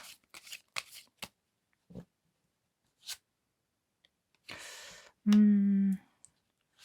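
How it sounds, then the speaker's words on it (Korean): Tarot cards being drawn from a deck: sparse soft card slides, taps and flicks with quiet gaps, followed by a brief louder tonal sound near the end. "세 장의 카드를 한번 뽑아보도록 할게요"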